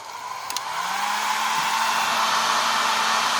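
A hair dryer spins up after a couple of faint clicks and settles into a steady, close whooshing drone with a low motor hum, blowing to dry paint on painted rocks.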